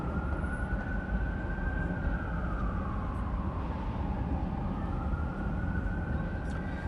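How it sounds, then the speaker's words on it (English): Distant sirens of fire trucks and ambulances heading west on a Saturday night in Denver, a faint wailing tone that slowly rises and falls over a steady roar of traffic and engine noise, with no talking. "I'm hearing a lot of fire trucks and ambulances going west"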